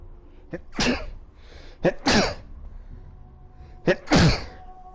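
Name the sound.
sneeze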